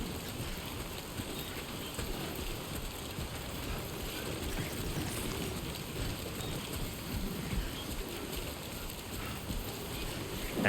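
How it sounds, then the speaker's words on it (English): Steady rain hisses throughout in the Death Stranding 2 video game, a dense, even wash of falling drops at moderate level with no voices over it. "And it's raining again."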